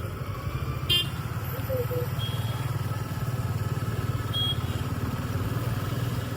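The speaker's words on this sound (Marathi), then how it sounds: "मानगाव मध्ये आलोय आणि ट्रॅफिक आहे" Steady road traffic hums close by in Mangaon, Maharashtra, heard from a motorbike, with engines running, a brief horn toot and another short honk a few seconds later.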